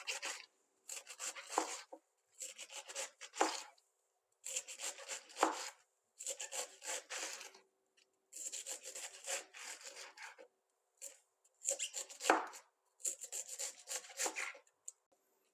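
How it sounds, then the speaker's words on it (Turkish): Knife finely shredding lettuce on a cutting board, heard as a fairly quiet run of rapid scraping strokes in bursts of one to two seconds, separated by short pauses, with no talk. "Şimdi kestiğimiz marulumuzu da şöyle ince ince doğruyoruz."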